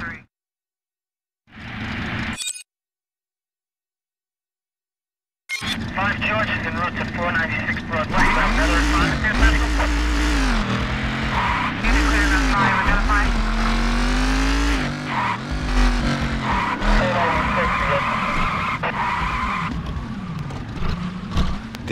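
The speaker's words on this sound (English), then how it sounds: "Let's see if you can get this vehicle up to speed and stop in the marker." A car in the video game Driver San Francisco accelerating hard, its engine revving loudly through rising and falling pitch sweeps, then braking with skidding, after a few short bursts and a silent gap at the start.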